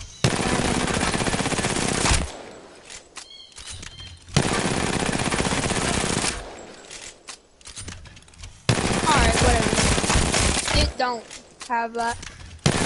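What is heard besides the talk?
gunfire in a video game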